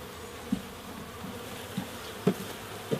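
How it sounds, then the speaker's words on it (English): Honeybees from a package colony buzz at low level, with a few brief louder bumps as they are knocked down away from the feed can and queen cage. "we're going to bump the bees down in order to get the bees down away from the can"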